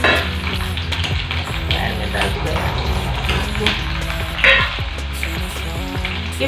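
Garlic, dry chillies and onion fry loudly in a pan for tempering, a busy crackling sizzle with stirring scrapes and utensil clinks, close and continuous, with a voice speaking over it.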